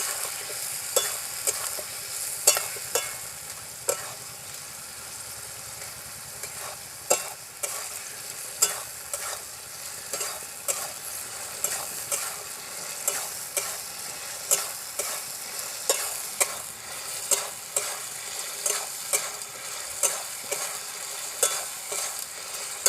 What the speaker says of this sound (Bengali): অল্প একটু জল দেবো এতে। জল দিয়ে আরও ভালো করে কষিয়ে নেব।